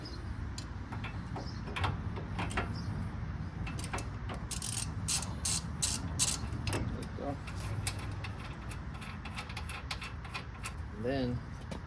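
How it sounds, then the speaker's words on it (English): A ratchet with a 7/8 socket and half-inch drive loosens a suspension bolt on a Ford F-150, giving a run of sharp metallic clicks in bursts over steady garage background noise. "with the 7/8 and a 1/2 inch, I'll go ahead and loosen that bad boy up."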